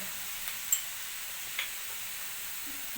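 Dal and fenugreek leaves sizzle quietly in a pan as chili and coriander powder are added, a soft continuous fry with a couple of faint clicks of a spoon.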